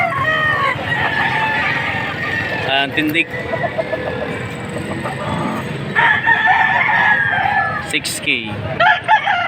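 A gamecock about 13 months old crows at a rooster market in Padre Garcia, Batangas, with repeated calls heard under almost constant nearby talk from people around it.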